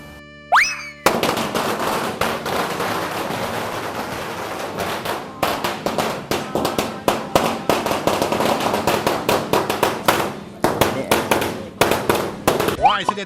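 Two thousand firecrackers set off as an offering at a Chumphon shrine at Sai Ri beach, crackling in a dense, loud rapid string of sharp bangs after a brief quiet start.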